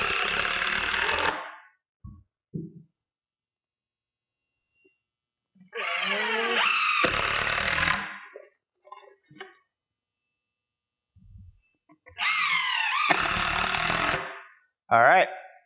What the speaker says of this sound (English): I'm going to go ahead and put a second screw at every location